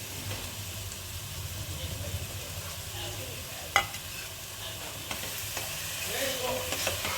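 Tomato paste and chili powder fry in a pan for paneer masala, giving a steady, moderate sizzle with a few sharp clinks of stirring scattered over about seven seconds, with no talking.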